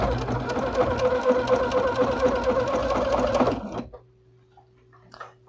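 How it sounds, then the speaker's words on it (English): A sewing machine stitches thick fabric around a curve on a microwavable bowl cozy, humming steadily and loudly for about four seconds before stopping, followed by a few faint clicks. "when you sew this part, this curve, you want to open the curve up so you can actually sew"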